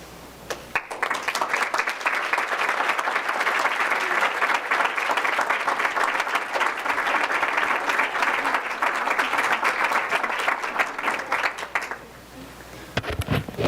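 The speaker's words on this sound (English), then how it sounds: "Can we just give one more round of applause?" Sustained round of applause from the audience at a school board of education meeting, loud and dense, continuing for about eleven seconds before tapering off abruptly, then a brief resumption at the end.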